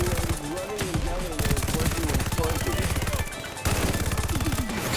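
Rapid bursts of UGM-8 machine gun fire hip-fired in Call of Duty: Vanguard, dense and loud with a brief pause near the middle, mixed with game effects and voices.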